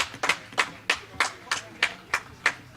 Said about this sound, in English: Oh, listen to this crowd.